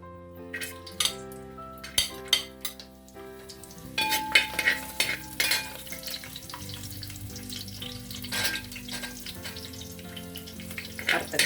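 Cashews and raisins fry in sunflower oil for a chicken biryani, a steady close sizzle running throughout while a metal spoon scrapes and clinks against the pan in irregular strokes.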